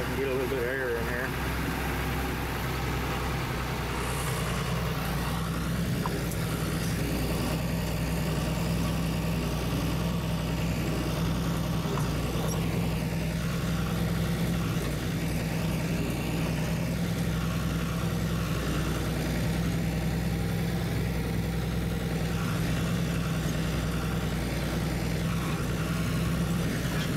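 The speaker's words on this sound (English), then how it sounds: "It's probably kind of loud. This tractor running." A tractor engine drones steadily while it pulls a manure spreader across a bumpy field, heard from inside the cab through an open side window, a loud, continuous low rumble with no pauses.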